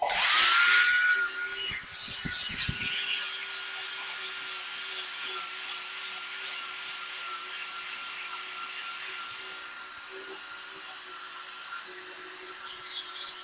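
Granite slab is machine-polished with a 120-grit pad: a steady whining motor drone with a faint rubbing, grinding texture, a few rough scraping knocks near the start, continuing evenly and moderately loud without speech.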